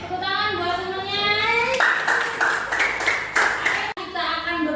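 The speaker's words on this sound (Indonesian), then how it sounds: "Oke, tepuk tangan buat semuanya." A classroom of children clapping together, a burst of dense applause lasting a couple of seconds between stretches of voices and chatter.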